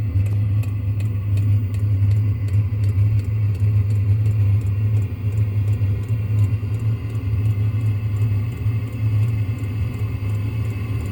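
A diesel heater for a boat runs steadily with a constant low humming drone and a faint rapid ticking from its pump, close to the microphone and with no talk.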